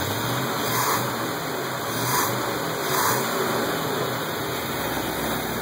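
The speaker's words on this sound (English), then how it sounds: "But all in all, a really nice engine. Runs very nice" A freshly built Chevrolet 350 small-block V8 on its first run, idling steadily with a few gentle swells of revving, heard alone with no talk.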